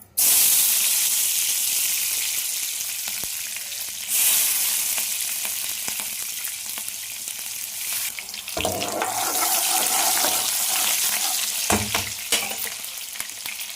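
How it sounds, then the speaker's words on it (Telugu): Onions and green chilies drop into plenty of hot oil in a pan with a loud, hissing sizzle that stays strong and continuous, with occasional stirring scrapes and brief bursts of crackle, close by and with no talk. "ఆయిల్ పోసేసుకుందాం ఆయిల్ అయితే బాగా వేయండి కదా ఉల్లిపాయ పచ్చిమిర్చి వేసేసుకుందాం"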